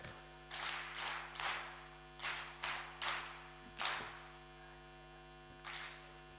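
Audience at a SALGA event performing a quality clap: about eight sharp unison group claps in an uneven pattern, each ringing briefly, over a constant electrical hum with no talking.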